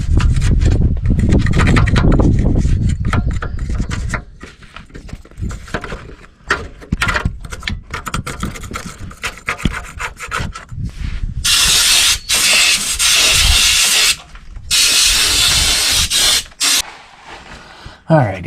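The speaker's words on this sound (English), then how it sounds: "Let's go scrape underneath here a little bit and get that plate back out." Scraping and brushing under a 1993 Chevy K-series pickup around the transfer case, with dense, gritty scratching and hissing bursts that come and go, loud and close for most of the stretch.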